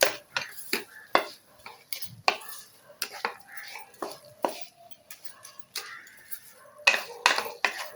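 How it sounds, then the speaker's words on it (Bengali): A spoon scrapes and taps around a pan as a coconut and sugar mixture for coconut sweetballs is stirred slowly over low heat, in irregular close strokes with quiet gaps between them. "এবার এটাকে এরভাবে অল্প আঁচে আস্তে আস্তে নেড়ে নেড়ে পাকটা করতে হবে।"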